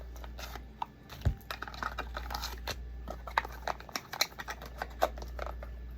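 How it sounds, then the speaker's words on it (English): A deck of cards is shuffled close by in a quiet room, giving soft irregular flicks and taps with a few sharper snaps over a low steady hum. "I'm gonna get these out and shuffle them up quick,"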